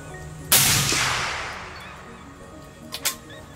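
A Howa rifle chambered in 300 Win Mag fires one loud, sharp shot outdoors with a long rolling echo, followed by faint distant knocks.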